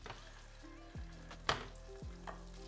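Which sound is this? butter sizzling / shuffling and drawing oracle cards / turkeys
butter sizzling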